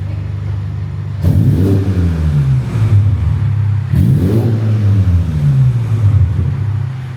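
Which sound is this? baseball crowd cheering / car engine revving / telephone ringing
car engine revving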